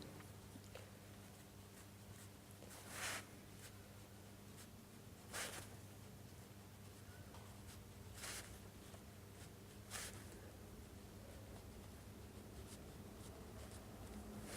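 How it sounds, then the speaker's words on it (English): Pencil or pen scratching across the back of a sheet of paper, a soft continuous scribbling texture with a few brief louder strokes, faint and close against a steady background hum, no talk. "can you just do some writing on the back of that piece of paper?"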